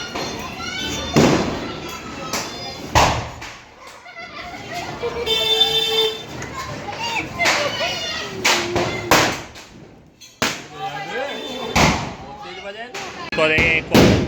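Diwali firecracker bombs go off in a string of loud, sharp bangs, several close blasts spread across the stretch, with people talking and shouting between them.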